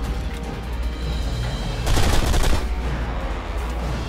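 Gunfire in the shooter game Blacksite, a short loud burst of rapid automatic shots in the middle set against a steady low rumble of game ambience.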